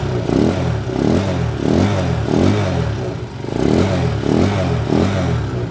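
A Honda TMX125 Alpha motorcycle fitted with a 200cc conversion idles close by, a loud, lumpy, rhythmic thump pulsing about once a second with a mechanical clatter.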